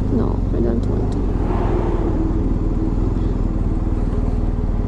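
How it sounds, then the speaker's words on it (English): Trucks and other vehicles rumble along a narrow street in San Miguel de Allende, Mexico, a continuous close engine drone of traffic with people talking over it. "And a lot of trucks around."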